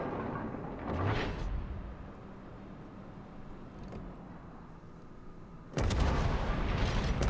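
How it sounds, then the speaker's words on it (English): Naval guns fire in World of Warships as the cruiser Leningrad shells an enemy destroyer: dull booming salvos at about one, four and six seconds, the last loud and sustained over steady background rumble. "And the Leningrad shooting the other DD."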